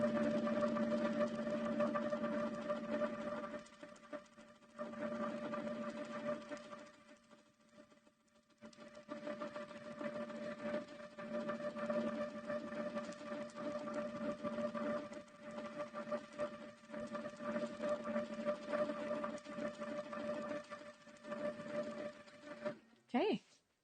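A domestic sewing machine runs steadily for free-motion quilting, its motor humming with a fast needle rhythm and brief pauses between stitching runs, while a person talks over it.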